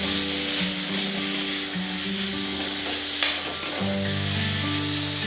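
Brinjal slices being fried again with neem leaves in oil, a steady close sizzle with stirring throughout and a brief sharp clatter partway through; no talking.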